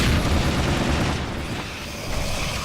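A grenade goes off in Half-Life 2: Aftermath, a loud, broad booming blast that rumbles on and slowly decays with no voices over it.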